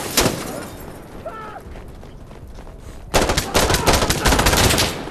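Heavy .50 caliber gunfire in the shooter game Insurgency: Sandstorm: a single sharp shot early on, then a quieter stretch, then a loud, dense, rapid automatic burst that keeps going to the end, close and forceful.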